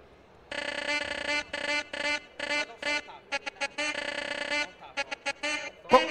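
Buzzy electronic horn blasts played by an Arduino, in an uneven rhythm of long and short bursts, fairly loud and close, with a brief higher chirp at the end.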